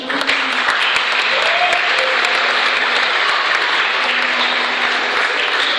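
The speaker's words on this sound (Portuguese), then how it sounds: "Vamos aplaudir, gente." A church congregation at an Assembly of God temple festival applauds in honour of a presbyter, loud, even clapping from many hands sustained throughout.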